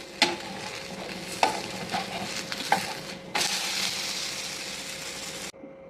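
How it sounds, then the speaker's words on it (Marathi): Wheat thalipeeth frying in oil on a griddle, giving a steady close sizzle with a few sharp pops and clinks, briefly louder toward the end before cutting off. "आपण हे छान असे मिश्रण तव्यावर तेल टाकून पॅनवर भाजून घेणार आहोत"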